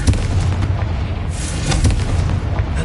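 Confringo fire spell in the video game Hogwarts Legacy bursting in loud, close booms, a series of blasts and crackles rumbling over a few seconds.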